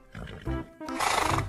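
A horse neigh plays in a short, loud burst of about a second and a half, rising into a harsh whinny at the end.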